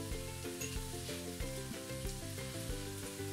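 Ginger and garlic sizzle and fry in a hot pan while cooking a vegan curry, a steady close crackle under a backdrop of stepped tonal music.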